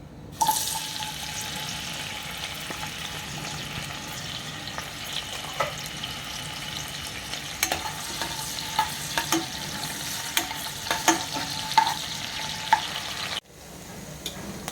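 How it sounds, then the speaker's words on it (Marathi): Chopped onion sizzles steadily in hot oil over a medium flame, a continuous frying crackle with scattered spatula scrapes and stirring clicks. It runs for about thirteen seconds, then cuts briefly before resuming. "तेल गरम झालेलं आहे. आता मी कांदा टाकतोय"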